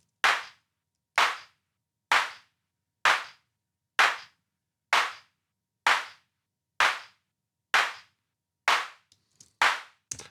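Designed clap sound hits ten times in an even, evenly spaced rhythm, each a sharp, bright snap with a short tail, dry and isolated with silence between.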